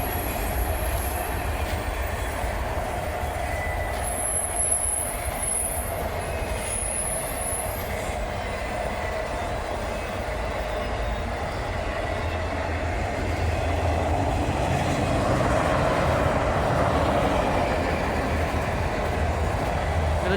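A long freight train hauled by Norfolk Southern locomotives rolls past at Glendale Park in La Crosse, Wisconsin, its wheels rumbling steadily and squealing in high bursts, loud and close throughout.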